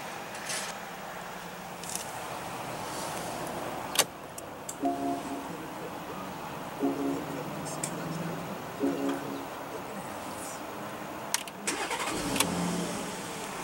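A 2016 Porsche Cayenne with a 3.6-liter V6 starts up and settles into a quiet, steady idle heard from inside the cabin, with a few soft clicks and thumps from the interior.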